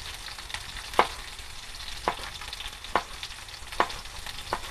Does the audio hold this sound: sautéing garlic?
yes